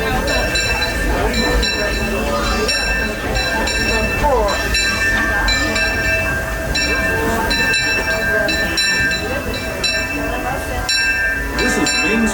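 The Disneyland Railroad train rolls slowly into Main Street Station at night, wheels clacking and brakes squealing, with a busy crowd murmuring and a bell dinging in the background.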